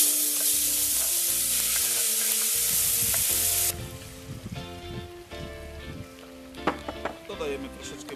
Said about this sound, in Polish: Czosnek nam się smaży.